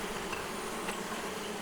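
Honey bees buzzing at an open hive during a weekly inspection, a dense steady hum filling the short clip at close range, with no voices.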